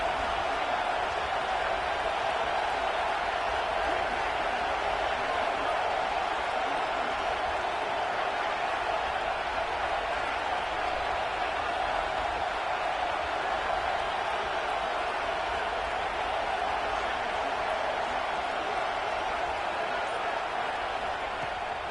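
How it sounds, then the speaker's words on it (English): A home crowd roars in the NCAA Football 26 video game as the defense faces third down, a dense, steady wall of stadium noise that holds at one level throughout, with commentary over it. "Here comes his home crowd as the defense tries to get off the field on third down"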